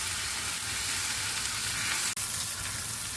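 Fried chicken pieces sautéing with onion masala in a pan for biryani give a steady, close, dense sizzle and crackle throughout, with one brief clank near the end.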